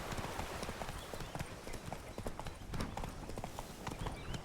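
A horse in The Witcher 3 trots with steady, rapid clip-clop hoofbeats, moderately close and fairly quiet, a continuous rhythmic patter with no voices.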